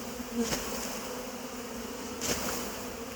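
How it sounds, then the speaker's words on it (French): Many honeybees from a captured swarm buzz steadily nearby in a continuous drone, with individual insects flying close past now and then. "il y a pas mal d'abeilles"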